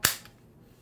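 A single sharp snap from a Beeman BP50 air pistol running on high-pressure air at 800 psi, a brief close crack that decays quickly into near silence.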